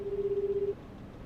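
A phone call rings unanswered in the game 428 Shibuya Scramble, a steady electronic purring tone that pulses rapidly, holds for under a second and then cuts to quiet.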